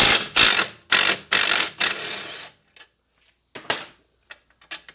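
A ratchet whizzes a nut and bolt off a two-way adjustable shock absorber on a Mercedes SLK32 AMG, with several loud, rapid ratcheting bursts followed by sparser, quieter clicks and short metallic taps.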